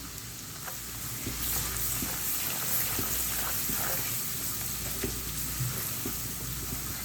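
Mutton that has already been boiled tender fries in a pan with black pepper, garam masala, turmeric, ground coriander and salt, giving a steady close sizzle with small crackles and occasional stirring.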